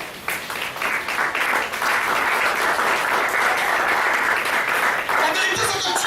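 A church congregation applauds to acclaim the Lord, producing sustained, dense, loud applause from a large crowd that holds steady throughout without a break.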